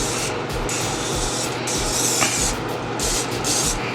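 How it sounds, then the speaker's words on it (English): Rapid, repeated hissing bursts of non-stick cooking spray from a can onto silicone molds, pulsing in a quick rhythm close by with no talking. "I'm just going to spray the insides with this non-stick spray"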